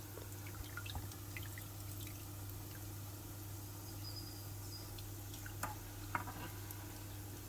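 Rice water in a saucepan comes up toward a boil for a Persian gheymeh nesar, giving faint, scattered bubbling pops and drips over a steady low kitchen hum.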